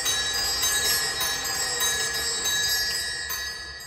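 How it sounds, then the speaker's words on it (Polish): Zimbelstern bells on a church organ ring in a continuous bright, shimmering jingle that holds steady, then tapers off slightly toward the end, heard alone. "mamy tutaj dzwonki takie jak Zimbelstern."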